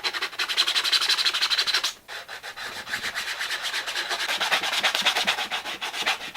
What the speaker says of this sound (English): So you can see now on camera that it's where it's sanded and where it isn't sanded.